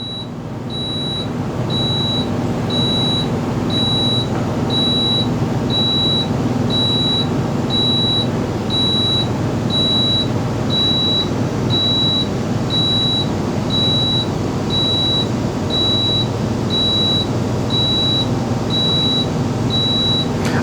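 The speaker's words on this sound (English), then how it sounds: "You will know that it's done when the system stops beeping." An Entegra Vision 29F motorhome's leveling jack system retracts and stows, giving a steady, repeated electronic beep that pulses evenly the whole time over a constant low motor hum.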